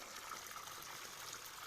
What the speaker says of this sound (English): as you can hear, the water is running very heavy.